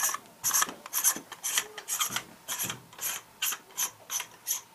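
Threaded parts of a homemade CREE XHP70 LED flashlight are twisted together by hand, making a steady run of short, rhythmic gritty rasps close up, with no talking.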